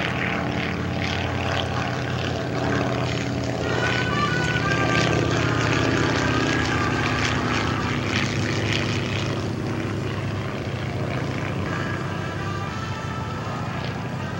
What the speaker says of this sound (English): PT aircraft are flying by for us safely